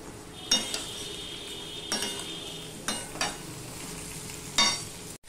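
Sliced ridge gourd and potato fry in a pan with salt and turmeric, giving a steady quiet sizzle broken by a few sharp scrapes and clinks of a spatula stirring, with no talk.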